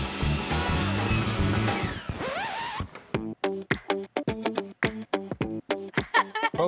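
A hand saw cutting wooden pieces for a toy robot's arms and legs, with a dense, continuous rasp first and then a steady run of separate sharp back-and-forth strokes, close up.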